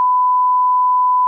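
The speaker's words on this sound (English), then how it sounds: "It'd just be a long beep" A single steady censor beep, a pure continuous tone held loud and unbroken for over a second before cutting off abruptly.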